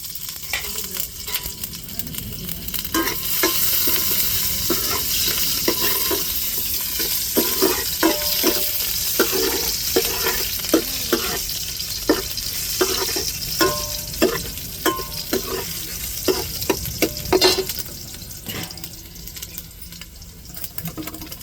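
Mustard seeds and urad dal crackling in hot oil for a rasam tempering, a steady sizzle punctuated by many sharp irregular pops and spits, close and fairly loud.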